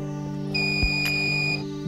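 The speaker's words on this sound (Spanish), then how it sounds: "Apaga la alarma y a continuación podrás ver el resumen de la cocción en pantalla." A sous vide cooker alarm beeps in a steady high electronic tone for about a second over a low hum, signalling the end of a cooking cycle.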